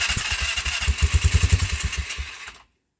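The engine of a 2004 Polaris Sportsman 400 ATV, run from a cold start on full choke, chugs close up in a fast, uneven thumping rhythm for about two and a half seconds, then cuts to silence.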